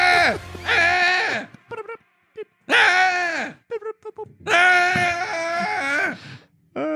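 A person gives drawn-out, wailing screams imitating someone receiving an electric shock, several loud bursts separated by brief gaps and short vocal sounds.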